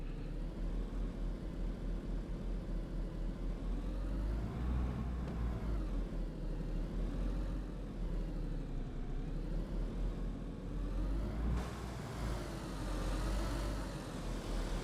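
Vehicle in DayZ bouncing over rough, jumpy ground, a steady loud low engine rumble with rolling bumps and jolts throughout, no talking.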